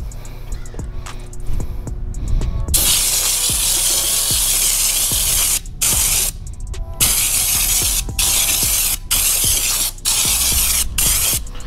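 A spray gun applies SecondSkin Spectrum coating to a truck in a second coat, sending out a loud, steady hiss in long bursts broken by several brief pauses, with no talking.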